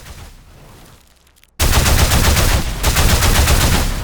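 A quiet hiss gives way abruptly to a loud, continuous burst of rapid sci-fi electric weapon fire, a single looping sample made in Weaponiser, with a dense, crackling, noisy texture that never lets up.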